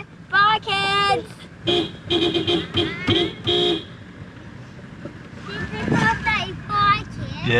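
A Landcruiser's horn gives a string of short, spaced toots as a farewell at the end of an East Coast road-trip weekend, mixed with wind noise and people talking nearby.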